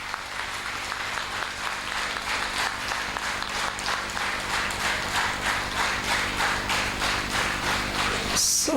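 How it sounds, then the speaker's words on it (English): A seated audience at a spiritual gathering breaks into sustained applause, steady rhythmic clapping from many hands close by, holding for several seconds before ending with a brief bump. "everybody clap for yourself"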